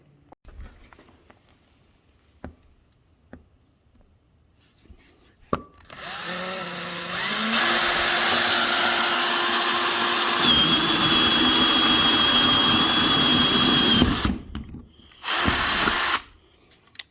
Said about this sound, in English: we'll start drilling holes in the tub